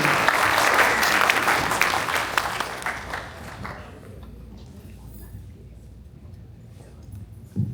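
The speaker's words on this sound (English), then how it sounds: "I think we deserve a larger round of applause for Hemant Bhai." An audience at a Federation of Indian Associations Chicago patriotic celebration applauds its president, Hemant Bhai Patel, with dense loud clapping for about four seconds before it tapers off into quiet room tone.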